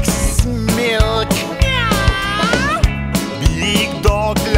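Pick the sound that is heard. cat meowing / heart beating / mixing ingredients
cat meowing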